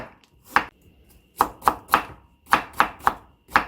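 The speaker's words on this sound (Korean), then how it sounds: "이렇게 또 채를 썰어도 돼요" A knife cutting radish into thin strips on a cutting board, a series of sharp, crisp chops in an uneven rhythm, close and clear with near silence between strikes.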